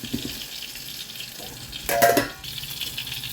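Green chillies frying in a pan of hot oil give off a soft, steady sizzle, with a louder burst of crackling partway through as they are stirred.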